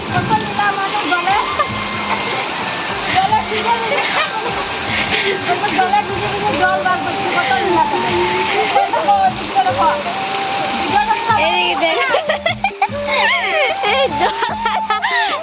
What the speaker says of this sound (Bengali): দেখো কত বৃষ্টি হচ্ছে আমাদের উঠোন একদম পুরো জলে ভর্তি হয়ে গেছে